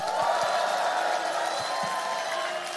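A crowd at an outdoor presidential campaign rally applauds and cheers for party workers, a continuous dense roar of clapping and shouting with a few sharp louder whoops standing out.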